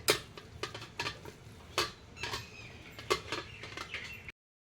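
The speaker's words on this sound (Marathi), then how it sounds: "बटाटे आता मॅशरने बारीक करायचे" Boiled potatoes are mashed with a masher in a bowl, giving a series of soft, irregular thuds and scraping clicks at close range, fairly quiet overall.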